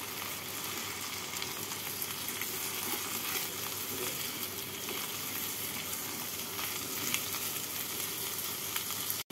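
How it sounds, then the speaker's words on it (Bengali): Potato pieces fry gently with browned onions in a pan, a continuous soft sizzle and crackle, fairly quiet and even throughout with no voices. "আলুগুলোকে পেঁয়াজের সাথে হালকা করে ভেজে নিচ্ছি।"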